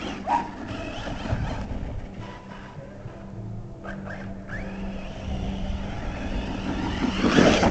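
A Team Corally Sketer RC car on a 4S battery whines and revs as it drives over bumpy ground, its electric motor rising and falling in pitch, fairly close with no talking.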